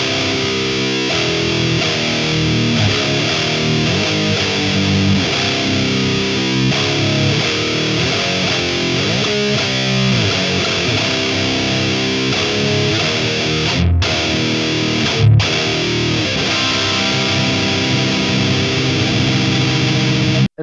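Distorted electric guitar through a Mooer Prime P2 rock reverb amp setting, dense sustained chords and riffs ringing continuously, loud and close with two brief pauses near the end.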